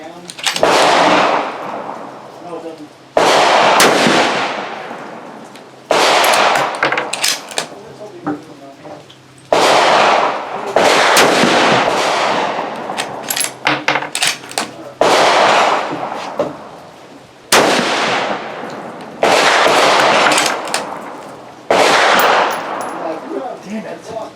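Rifle shots from a Mossberg Patriot chambered in 22-250 fired outdoors, about nine sharp, loud cracks spaced a few seconds apart, each trailing off in a short echoing tail.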